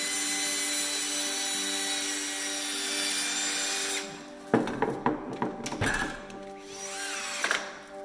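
A drill bores a small 2.5 mm pilot hole for a 3.5 mm screw, giving a steady high whine for about four seconds before it stops and gives way to clattering handling noises.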